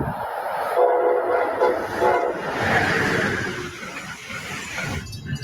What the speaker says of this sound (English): The ACS-64 comes equipped with a Nathan K5LA air horn.